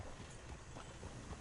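Hooves of the horses pulling a coach clop along in Red Dead Redemption 2, a quiet, muffled rhythmic patter over a rolling background hum.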